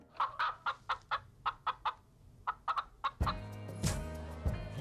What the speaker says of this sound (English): My phone ringer is the chicken sound.